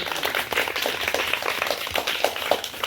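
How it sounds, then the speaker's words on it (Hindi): An audience at a street magic show claps for the baba, a run of quick, sharp hand claps, fairly rhythmic and moderately loud, carrying on steadily with no voices over it. "ताली बजाओ बाबा की"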